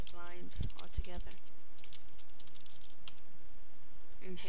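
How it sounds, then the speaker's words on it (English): Typing on a computer keyboard while entering text into a browser address bar, a quick run of soft close clicks heard between stretches of someone talking. "just in the address bar type in window blinds all together"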